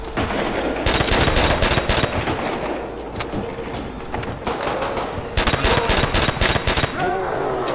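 Rapid bursts of automatic gunfire and single shots from Call of Duty: World at War gameplay, loud and close, in clustered volleys with brief pauses between them.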